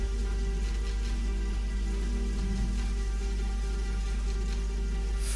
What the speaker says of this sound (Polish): O, deszcz pada, jak miło.